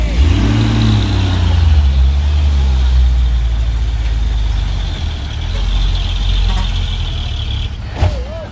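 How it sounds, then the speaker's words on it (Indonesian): An orange dump truck drives close by, its engine rumbling loudly and steadily before an air brake hisses sharply near the end. "Pakai dam truk oren."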